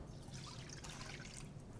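Fresh lime juice is poured into a bowl for a spring roll dipping sauce, giving a faint, steady trickle of liquid with no voices.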